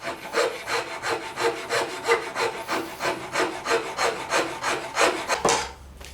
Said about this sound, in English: you'll notice the file I'm using here, it's not that aggressive of a file.